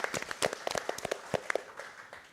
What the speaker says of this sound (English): So, round of applause for Beaver Dam Area Community Foundation.